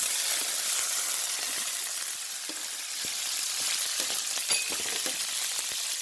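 Garlic, green chilli and quartered shallots fry in a pan for a squid curry, with a continuous close sizzle and occasional faint clinks from stirring.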